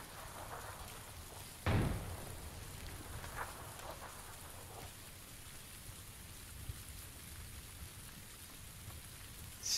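Steady rain patters in the PUBG battle royale game, a quiet, even hiss of drops with one brief thump partway through and no voices.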